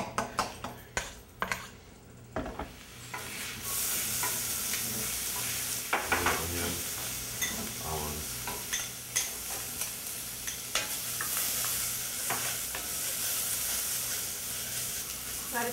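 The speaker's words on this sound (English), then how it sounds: "We roast some onions over." Onions roast in hot ghee in a pot, giving a steady close sizzle with repeated scraping stirs and clinks throughout.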